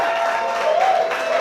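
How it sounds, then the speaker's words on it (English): Applause from a live audience at a vintage music show in Berwyn, Illinois, a dense, steady wash of clapping with some cheering, continuous and fairly loud throughout. "A round of applause."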